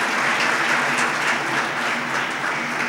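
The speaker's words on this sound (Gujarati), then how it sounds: "જોરદાર તાળીથી આપણે વધાવીએ" Steady, dense audience applause at a Gujarati motivational talk, many hands clapping evenly and loudly for the full stretch without pause.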